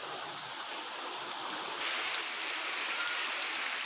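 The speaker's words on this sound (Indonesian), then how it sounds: "Air mengalir deras masuk permukiman hingga menyebabkan warga panik" Flash flood water rushing fast into a village settlement, a steady broadband roar of flowing water, continuous and close, growing a little louder partway through, with no voices.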